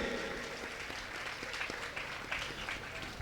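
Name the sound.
audience applause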